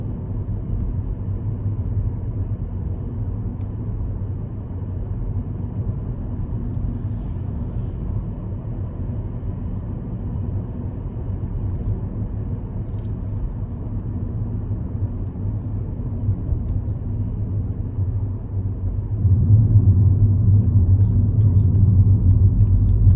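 A car driving through the small mountain villages of Dossoledo and Candida in the Comelico Valley, Belluno province, Dolomites: a steady low road rumble throughout, growing louder near the end.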